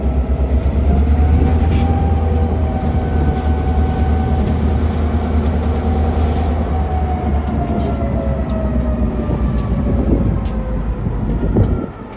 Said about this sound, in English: Joanne says it's an RJ Corman train